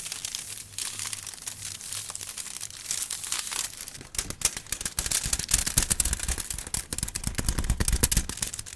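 Foil wrapper crinkling and crumpling close up as a bar of dark chocolate is unwrapped, a steady stream of sharp crackles that grows denser and louder partway through.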